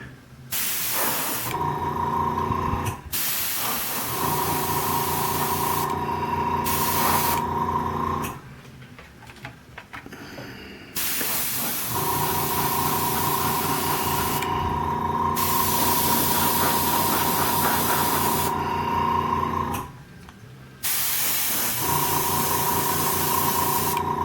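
An airbrush sprays a first layer of paint onto a Robby the Robot model in long, steady hissing passes. The passes are close and loud, separated by short breaks.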